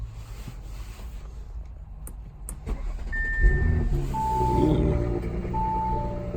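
Audi SQ5 engine starting and settling into a low idle, with a few clicks and knocks and short electronic chimes from the cabin, recorded close and fairly quiet.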